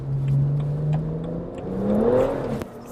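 A BMW 1M Coupe with the N54 engine accelerates out of a roundabout, its engine note climbing steadily in pitch over a few seconds as it pulls hard, heard from inside the cabin.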